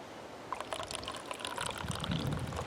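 Coffee pours from a coffee press outdoors on Johns Mountain. A faint, light trickle and splash rises over quiet background noise.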